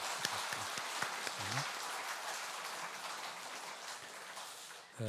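Church congregation at a Sunday worship service applauding together, a dense, even wash of many hands clapping from across a large room, moderately distant and sustained for several seconds.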